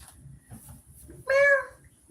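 One short, clear meow from a pet cat rises out of a quiet room, close and fairly loud.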